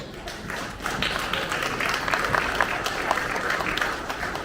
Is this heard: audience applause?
yes